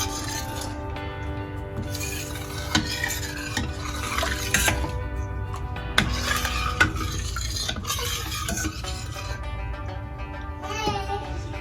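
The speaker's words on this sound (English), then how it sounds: "I'm just going to turn on my gas and just give it a quick mix" Pakora kadhi curry gets stirred in a pot on a gas stove, with repeated spoon scrapes and metallic clinks against the pan over a gentle simmering sizzle, close by, while background music plays.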